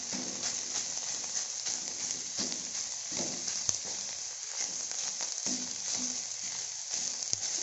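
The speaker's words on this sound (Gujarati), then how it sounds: "તો હવે આપણે એમાં દૂધી એડ કરીશું। તો એને આપણે સરસ રીતે મિક્સ કરવાનું છે।" Bottle gourd sautéing in hot ghee gives a steady close sizzle with scattered scraping and stirring clicks from mixing, continuous throughout with no talk.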